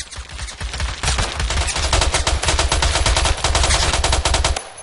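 Rapid automatic gunfire from the Roblox game Phantom Forces rattles loud and continuous for several seconds, dense bursts of shots with barely a break, no talk over it.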